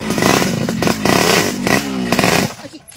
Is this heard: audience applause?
no